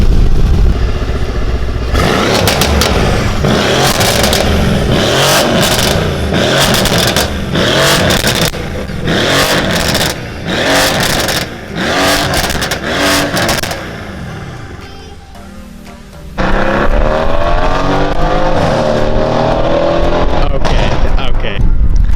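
A Mercedes-AMG C43 engine revs hard and close, with a run of sharp repeated bursts that give way to a steadier, lower roar near the end.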